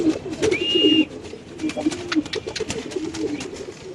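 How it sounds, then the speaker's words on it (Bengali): Indian Hyderabadi Nili Iceber pigeons coo in low, throaty repeated phrases, close and fairly loud, with a brief whistle-like tone near the start. "দেখেন ভাই কবুতরের কোয়ালিটি রেয়ার কালেকশন ভাই।"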